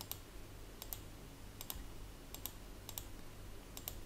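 A computer mouse clicks while filling shapes in CorelDRAW, soft close clicks coming in quick pairs at a regular pace over a faint low hum.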